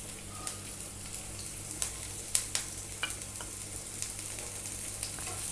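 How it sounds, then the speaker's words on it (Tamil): Green chili and small chopped onion sautéing in a little oil in a pan, a steady, soft close sizzle broken by scattered sharp crackles and pops, with no talking. "இது ரெண்டும் நல்லா வதங்கட்டும்."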